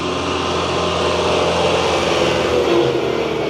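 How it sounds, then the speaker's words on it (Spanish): A special vineyard tractor in the French wine country passes by, its engine a steady mid-pitched rumble that swells slightly as it nears, with no voices. "Es como un tractor especial, tal vez para la producción de vinos, producción de uvas"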